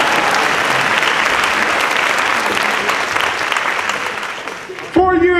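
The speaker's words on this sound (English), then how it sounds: "Okay, you can clap on that." A large audience at a high school graduation ceremony for a conservatory of the arts bursts into dense, loud applause that slowly tapers off, before a voice cuts in at the very end.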